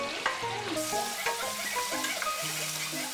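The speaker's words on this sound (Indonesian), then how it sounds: "Kita tumis hingga aromanya wangi, layu" Chili and bay leaves sautéing in a pan, a steady close sizzle with scattered scraping and stirring clinks over about three seconds, no voices.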